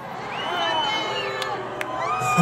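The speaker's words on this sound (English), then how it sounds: "They're booing Jesus." A concert audience at a Smashing Pumpkins show in Tucson, Arizona, sending up a loud, sustained mass of crowd voices, a broad continuous roar with whoops and a few sharp shouts rising out of it.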